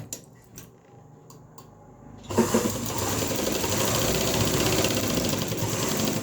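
Sewing machine starting up partway through and running steadily, top stitching the neckline of a kameez near a zip, loud close mechanical whir after a quieter stretch with a few light knocks.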